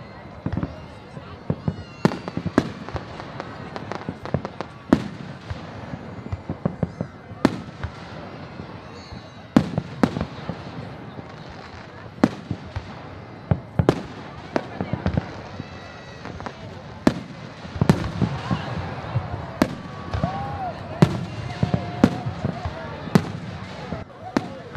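Fourth of July fireworks at a park in Manassas, Virginia, sharp bangs and crackles popping irregularly throughout, some close and loud, over ongoing voices and background chatter.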